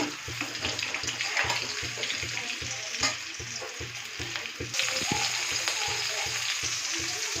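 New potatoes fry in hot oil until reddish, crackling and sizzling steadily up close, with a regular rhythmic knocking of stirring against the pan and the bubbling growing fuller partway through.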